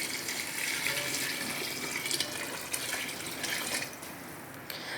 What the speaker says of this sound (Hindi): तो अब इसके अंदर डाल देते हैं पानी, तकरीबन 2 लीटर के करीब है पानी।